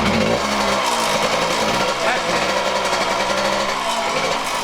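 A 45-year-old motorcycle engine is kicked over and runs with a rough, loud, rapid mechanical chatter, close up and steady, with voices talking over it.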